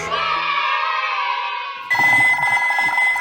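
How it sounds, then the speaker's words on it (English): A telephone rings with a steady electronic tone, then a brighter, louder ringing pattern takes over, close and clear with no talking. "The phone rings at Peppa's house."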